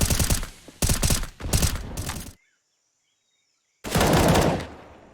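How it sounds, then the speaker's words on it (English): Rapid automatic gunfire in a competitive Counter-Strike: Global Offensive match, loud bursts of shots in quick succession, then a pause of silence before another heavy burst of fire. "Now, the shots ring out."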